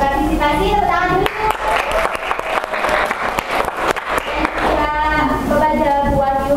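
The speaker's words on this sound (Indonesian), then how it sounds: "Tepuk tangan dulu." A classroom audience claps for a few seconds after a student presentation at a university; dense, steady applause fills the room, with some voices mixed in.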